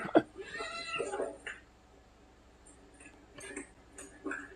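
A cat meows several times in short, close cries while being held up by a milk bottle, with quieter pauses between calls and faint ticking in the background.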